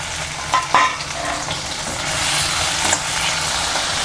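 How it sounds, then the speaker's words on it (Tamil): Chopped tomatoes fry in a pan with garlic and shallots for a ridge gourd peel chutney, a steady close sizzle broken by a few scraping stirs and light clanks. "நம்ம நறுக்கி வச்சுருக்க தக்காளி பழத்தை போட்டுக்கலாங்க"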